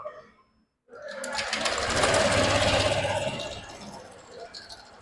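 A Honda Click 125 V2 scooter engine starts after a brief silence and runs with a rapid, buzzing rattle, loud and close, then eases slightly; the engine is noisy, with its water pump removed.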